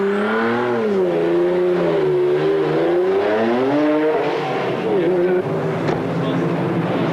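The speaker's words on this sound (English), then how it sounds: "Hugh Chamberlain waves the car out, back into the race, in 4th place." A GT race car at the 1994 BPR Paul Ricard 4 Hours race drives past with a loud, steady engine drone that rises and falls in pitch, under a continuous commentator voice.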